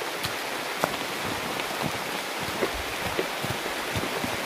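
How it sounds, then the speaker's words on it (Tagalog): Steady rain falling outdoors, a dense wash of patter with occasional louder drops striking nearby surfaces, no voices. "at umuulan pa ngayon"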